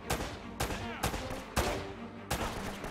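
Five sharp, loud gunshots spaced roughly half a second apart during a firefight in the video game Uncharted: Drake's Fortune, each a crisp crack with a short tail.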